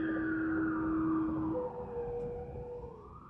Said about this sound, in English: Get that little siren out.